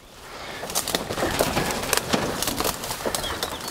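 Birds flushed from weeds during gun dog training burst up with a quick flurry of wingbeats, a few close flapping bursts over rustling cover, with no talking.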